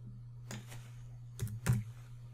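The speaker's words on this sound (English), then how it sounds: "So I would just type in 5/8" A few quick clicks of keys on a computer keyboard, close and soft over a low steady hum.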